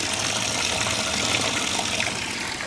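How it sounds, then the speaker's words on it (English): Running water spills steadily over stones in the base of a garden water feature, a loud, continuous close-up splashing rush with no break. "It's now created a lot softer sound of running water, a lot more peaceful"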